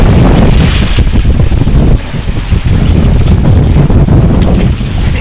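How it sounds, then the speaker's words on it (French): Choppy, confused sea on a sailing passage from Boulogne to the Scilly Isles: loud, constant rush of wind and churning water against the boat, with heavy wind buffeting on the microphone throughout. "la mer, elle est pas très ordonnée aujourd'hui, c'est un peu machine à laver"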